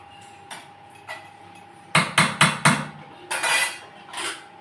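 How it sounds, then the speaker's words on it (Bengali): A spatula clacks against a pot while chicken curry is stirred with added sugar and oil, giving a few sharp metallic knocks and scraping clatters in irregular bursts, close and fairly loud. "এবার এটাকে খুঁটি দিয়ে ভালো করে মিশিয়ে দিলাম।"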